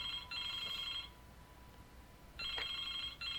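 A telephone rings in the Broken Sword 2 video game, two bursts of bright electronic ringing separated by a short pause, fairly faint and clean with no talk over it.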